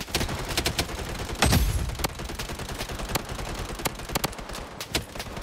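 Gunfire in the shooter game Blood Strike: sharp rifle shots in irregular bursts and single cracks, with one heavier impact boom near the middle, all fairly close with no talking.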